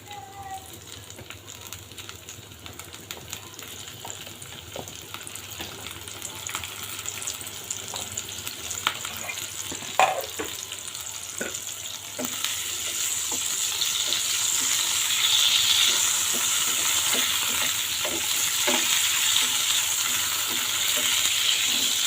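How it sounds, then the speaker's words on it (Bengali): Bitter gourd pieces lightly frying in white oil give a steady, moderate sizzle that grows slightly louder and brighter in the second half, with occasional soft clinks and stirring taps and no talking. "তেলে করলাগুলো আমি হালকা করে ভেজে নেব।"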